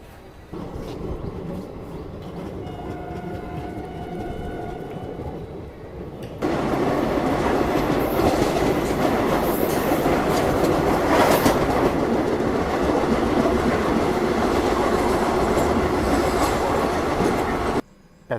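An Indian Railways passenger train runs along the track, a steady loud rumble of wheels and carriages with clattering rail noise that swells louder partway through and continues without talk.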